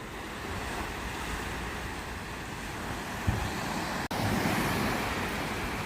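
Surf breaking as white water over a sandbank by a creek mouth, a steady broadband wash of small breakers with wind buffeting the microphone, continuous and fairly close, with a brief bump and dropout partway through.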